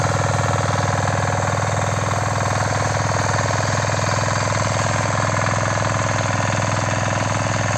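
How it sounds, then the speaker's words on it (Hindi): A small walk-behind power tiller, a compact tractor used on a wheat field, runs steadily with a loud, continuous chugging engine drone and rhythmic vibration throughout, no voices. "ये अपना ही छोटा ट्रैक्टर है जिसे टिलर कहा जाता है, टिलर पावर कहा जाता है।"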